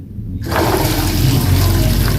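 Boiled soybean water for tempeh poured off through a strainer, a sudden loud rush of splashing water starting after a brief quiet moment and continuing steadily.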